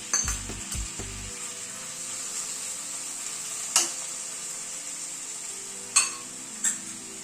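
Chopped tomatoes go into a pan of spices frying for spinach dal and set off a steady, bright sizzle that runs throughout. It opens with a few low thumps and is broken by occasional scrapes and clinks of a spoon against the pan.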